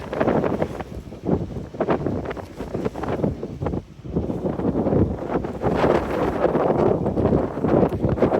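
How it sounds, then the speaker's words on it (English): Strong wind gusts outdoors beside a 1987 Ford F-150 farm truck, roaring and buffeting loudly against the microphone in uneven surges with brief lulls. "Yeah, it's pretty windy out today."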